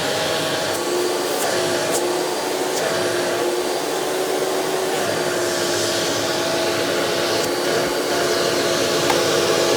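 Hoover Dimension Supreme U5223-930 upright vacuum running continuously, a loud steady motor whine and airflow roar close by with no talk.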